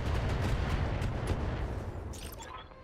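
Battlemech combat explosions in the Battletech video game, a dense rumbling volley of booms and blasts that rolls continuously and then fades toward the end, with no talk.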